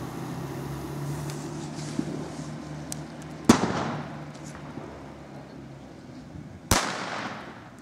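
Two loud, sharp firecracker bangs go off outdoors at a New Year's-style fireworks display, each with a short decaying crackle, over a steady background rumble and distant pops.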